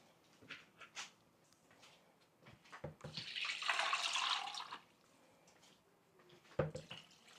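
Water runs steadily from a tap into a cooking pot for samgyetang, a gushing pour of about two seconds. It is preceded and followed by faint kitchen clatter and quiet handling.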